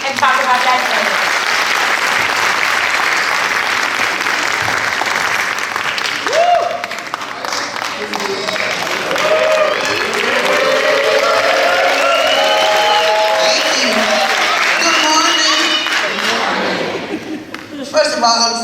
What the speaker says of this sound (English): So let's give them a round of applause as they come and talk about that thing.